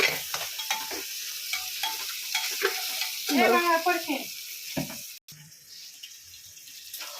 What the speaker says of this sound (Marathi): ढबू मिरची आणि टमॅटो इथं पण थोडासा भाजलाय, अजून भाजून घेऊ आपण.